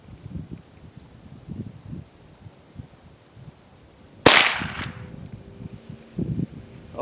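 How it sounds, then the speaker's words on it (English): A single sharp crack from a Ruger 10/22 rifle firing at a target 50 yards away, abrupt and loud against quiet outdoor rustling, followed by a short fading tail. "we took one shot at 50 yards"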